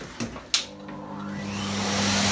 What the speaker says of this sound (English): So what we're going to do now, turn it on